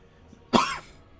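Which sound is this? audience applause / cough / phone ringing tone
cough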